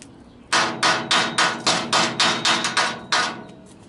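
Ten evenly spaced, loud hammer blows ring out one after another, chipping slag from welds on the raised steel sides of a dump truck, with no talking.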